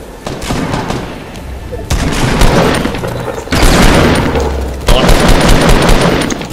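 Rapid video game gunfire shooting down trees, loud bursts of automatic shots repeating in several waves with booming impacts, close and continuous across the clip.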